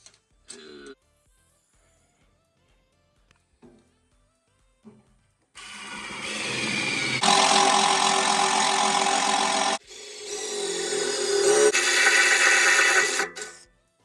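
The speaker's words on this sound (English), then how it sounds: "I'm using a step bit to drill the holes." A power drill with a step bit grinds loudly and steadily through material for several seconds, briefly easing and then resuming after a quiet start.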